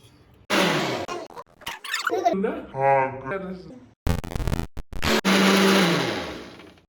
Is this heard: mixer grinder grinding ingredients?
yes